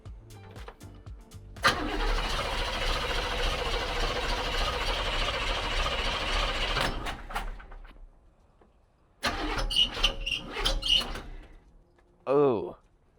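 A 1965 Chevrolet El Camino's engine cranks and catches, running roughly and loudly up close for several seconds before cutting out, followed by a second rough burst and a short rev, with people talking around it.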